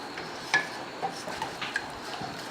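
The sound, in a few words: stirring sauce of rice vinegar, salt and pepper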